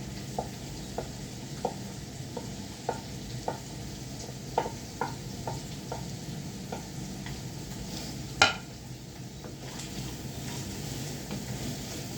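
Onions sautéing in a pan for paneer butter masala, a steady low sizzle broken by regular soft scraping strokes of a spoon about every half second, with one sharper clack near the end; no voices.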